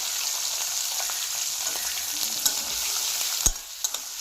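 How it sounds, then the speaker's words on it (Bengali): Capsicum with whole cardamom, cloves and cinnamon sticks frying in plenty of hot oil while cooking mutter paneer, a steady close sizzle with a few sharp stir clicks of a spoon against the pan. "এটা আমি লাল করে ভাজবো যতক্ষণ না ভাজা হয়েছে"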